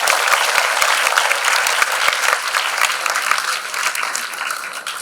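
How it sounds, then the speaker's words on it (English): A classroom of students applauds a classmate during an Indian Air Force career session at a coaching institute: dense, steady clapping from many hands fills the room for the whole stretch, close and fairly loud, easing slightly toward the end. "Clap for him."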